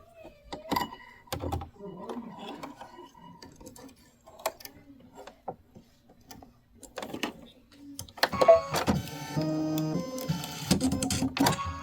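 An embroidery machine sewing a placement stitch in white thread for a bench pillow project starts up after scattered handling clicks, then runs with a steady, rapid mechanical chatter, close and moderately loud, no one speaking over it.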